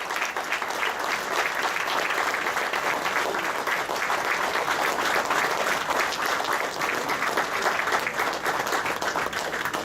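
Audience at a 2017 Atlantic City boxing hall of fame induction ceremony applauds steadily, a dense, even wash of many hands clapping for about ten seconds without letting up.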